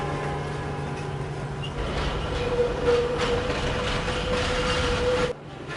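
A train passes near Luz Station in São Paulo, a steady rolling rumble with rail clatter and a thin, sustained wheel squeal, close and fairly loud before cutting off abruptly near the end.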